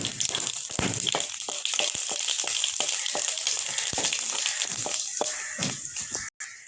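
Panch phoron and dried chillies crackle and sizzle in hot white cooking oil, a busy, close spitting sound that runs steadily before stopping abruptly near the end.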